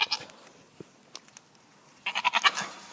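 Goats bleat in a quick burst of several short, wavering cries near the end, following a stretch of faint clicks and scattered low noises.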